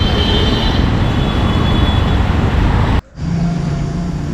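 A train passes close by near a railway station, a loud, dense rumble and rattle for about three seconds before it cuts off abruptly, leaving quieter traffic-like background noise.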